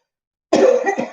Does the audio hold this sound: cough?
yes